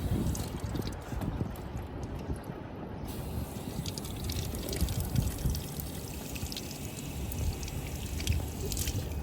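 Water pouring steadily from a drinking water dispenser at Expo 2020 Dubai, a continuous trickling flow with a busy crowd hum beneath it throughout.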